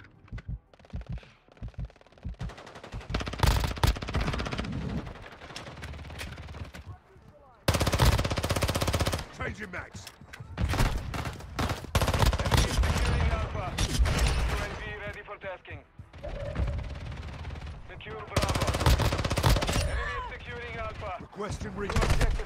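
Gunfire in the video game Arena Breakout: repeated loud bursts of automatic fire coming from several directions, with brief pauses between volleys and voices talking over the shooting.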